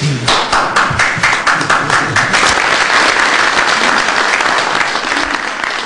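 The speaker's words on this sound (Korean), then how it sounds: "미국에선 박수가 터져나왔지만" A large crowd applauds loudly and steadily, dense clapping that holds at full strength the whole time with no voices on top.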